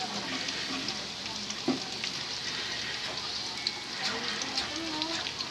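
Garlic sizzles and crackles steadily in a frying pan before crabs are added, a close, continuous hiss of hot oil with small pops scattered throughout.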